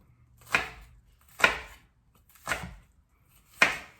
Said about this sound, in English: So just chop your onions.